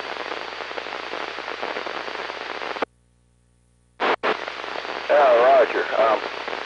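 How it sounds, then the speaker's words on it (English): Broadband hiss of white-noise static fills a radio receiver as its antenna shudders to a stop, the noise wavering slightly, dropping out abruptly for about a second, then returning with a faint warbling tone. "I can actually hear the white noise shifting up and down a little bit as the antenna shudders to a stop"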